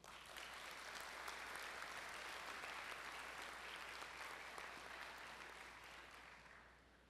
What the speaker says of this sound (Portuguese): A ele eu peço uma salva de palmas.